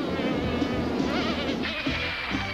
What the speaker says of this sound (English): I hear the buzz of those burglarizing bugs already.